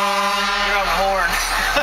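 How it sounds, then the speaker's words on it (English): A fire engine's horn sounds in one sustained, loud, tonal blast that wavers and fades near the end, with voices faintly present around it. "You're on the horn."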